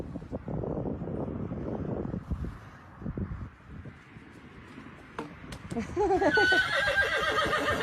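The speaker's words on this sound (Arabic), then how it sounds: "الحصان اللي ضحك عليه" A horse neighs in a laughing, whinnying burst near the end, loud and close, after a stretch of rustling, wind-buffeted handling noise and a few clip-clop thumps.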